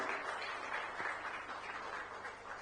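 A crowd at a Chhattisgarh public event applauds the state health minister with a steady, fairly soft wash of clapping that carries on throughout, sounding somewhat distant.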